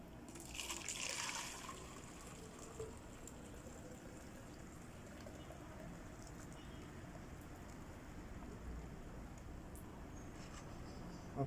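Muddy water is poured very gently and slowly into a container while making clay from dirt, a faint steady trickle that runs quietly and evenly throughout with a brief brighter splash early on.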